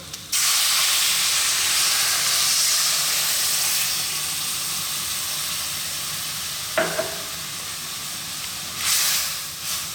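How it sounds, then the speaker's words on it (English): Coconut milk poured into a hot pan for Sri Lankan fish curry sets off a loud, sudden hiss that settles into a steady sizzle, with a brief utensil clink and a later surge of bubbling close by. "Then we're going to add our coconut milk."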